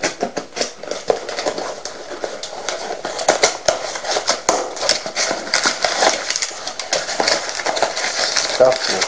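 Plastic bag packaging crinkles and rustles in close, irregular bursts as a deck of playing cards is unboxed, with a person talking throughout.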